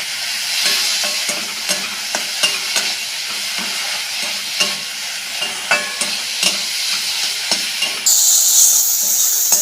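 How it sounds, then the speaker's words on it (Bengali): Brinjal pieces seasoned with turmeric and salt sizzle loudly in a pan while being stirred, with a steady crackling fry broken by repeated scraping strokes and a brighter hiss near the end. "নেড়ে বেগুনটাকে ভেজে নেবো।"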